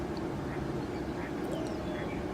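Ducks quack by a lake, a few short calls rising over a steady outdoor background hum.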